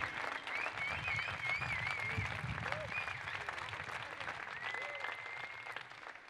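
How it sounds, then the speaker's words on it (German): Applause from a crowd at a football club's end-of-season player farewell, a steady, fairly faint wash of clapping throughout, with a distant voice briefly over it. "ich bitte noch einmal um Applaus für diesen wunderschönen Treffer und für Marc Stendera"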